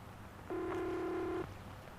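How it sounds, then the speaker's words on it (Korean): A single telephone ringback tone, steady and clear, sounds for about a second against a quiet background hum in a horror radio drama. "연결음 한 번에 누군가 받았다."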